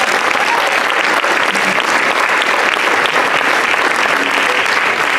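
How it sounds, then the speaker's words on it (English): Dense, steady audience applause fills a hall at a senior school sports awards evening, loud and continuous throughout, with no voices rising above the clapping. "Let's give him a round of applause."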